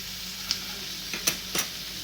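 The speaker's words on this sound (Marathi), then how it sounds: "पुन्हा परतून घेतो आहोत, ढवळून घेतो आहोत छान सगळीकडे व्यवस्थित." Ridge gourd sautés in a pan with a soft continuous sizzle, punctuated by three or four light clinks of a spoon stirring the vegetable against the metal.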